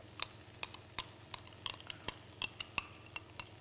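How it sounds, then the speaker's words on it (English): Spinach puree stirred into a masala frying in a pan, with repeated sharp scraping clicks of a spoon against the pan over a steady low sizzle. "So we'll add this puree into this masala."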